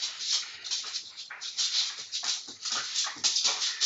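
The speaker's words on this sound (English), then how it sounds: "My dogs are playing behind me, and they're really noisy." Dogs playing nearby, a noisy stretch of scuffling, panting and soft whimpering yips that rises and falls unevenly, fairly close and with no talk over it.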